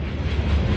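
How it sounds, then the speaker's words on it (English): A train passes near a West Virginia expo venue, a loud steady low rumble with rolling wheel noise that fills the short moment without any talking. "There's a train going past right now"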